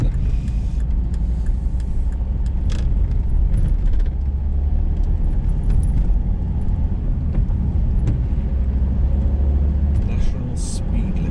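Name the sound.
car driving on a road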